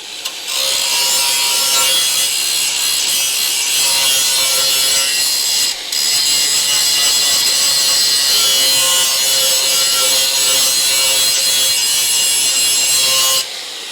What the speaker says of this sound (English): So I'm just gonna get a regular old grinding wheel.